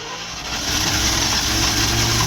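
A 1974 International 1600 truck engine running just after a cold start, a loud, rough, steady idle that swells slightly and stays close and continuous throughout.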